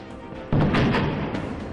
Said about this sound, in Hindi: बम धमाका